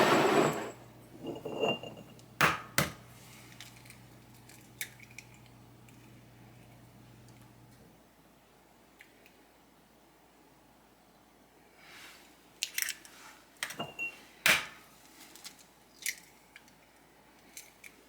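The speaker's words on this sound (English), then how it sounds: "I'm just going to quickly go ahead and separate my 3 eggs" Three eggs cracked and separated by hand in a home kitchen while making chocolate soufflé: a few sharp, close cracks and small wet clicks scattered over a quiet background, with no talking.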